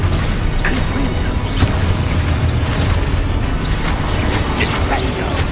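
A Confringo blasting spell explodes in Hogwarts Legacy, a heavy booming blast inside dense, continuous combat noise, with a voice calling out over it.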